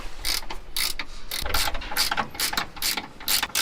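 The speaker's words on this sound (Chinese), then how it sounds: "咱们拧这颗螺丝的时候要拿千斤拧 把这个副车架顶一下" Ratchet wrench tightens a long subframe bolt on a Honda Fit, giving close, loud bursts of rapid pawl clicking in a steady back-and-forth rhythm, with no talking.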